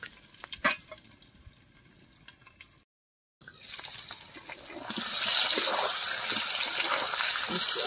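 Small new potatoes for Kashmiri dum aloo fry in a covered pan, a soft sizzle that briefly cuts out, then returns as a louder, steady hiss.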